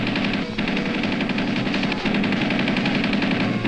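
Weapons of an M551 Sheridan light tank firing during tropical trials, a dense continuous roar of rapid gunfire with engine rumble beneath, loud and sustained with a brief dip partway through.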